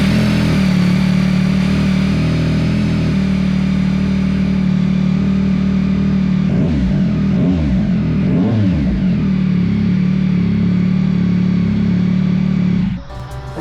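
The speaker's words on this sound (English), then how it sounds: "Alright, so this is the exhaust with the standard Baffle." A motorcycle fitted with a Kelpie Customs exhaust and its standard baffle idles loudly and steadily, then revs in several rising and falling bursts midway before settling back and cutting off abruptly.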